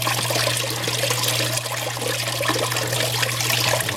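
Water runs steadily over a non-vibrating gold prospecting water table lined with a special mat, a continuous close splashing trickle with a constant low hum beneath it and no talking.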